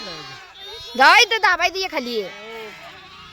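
A sheep in a travelling Dhangar shepherd flock, a ewe nursing her lamb, lets out a loud wavering bleat of several quick pulses. Someone speaks briefly nearby amid outdoor background noise.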